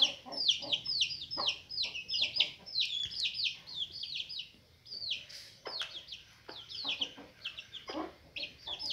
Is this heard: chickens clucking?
yes